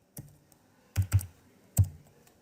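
Keys tapped on a keyboard to enter numbers into a calculator, a few separate clicks: one, then a quick pair, then one more, close and clear in a quiet room.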